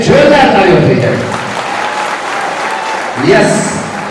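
Applause from parents and students at a motivational talk in Surat, moderately loud clapping heard under and around a voice speaking.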